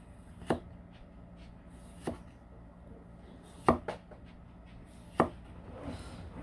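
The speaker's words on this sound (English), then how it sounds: "Some nice thin slices we can put over our salad wedge here." A knife slicing steak into thin slices on a cutting board, four separate soft thuds spaced over a quiet background.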